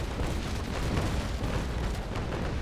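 Cannon broadside from a sailing warship in Naval Action, a dense continuous rumbling roar of gunfire filling the whole moment, loud and close.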